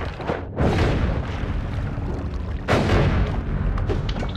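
Explosions in the video game Noita: two heavy, booming blasts with long rumbling tails, the second arriving about two seconds after the first, loud and dense with no talk over them.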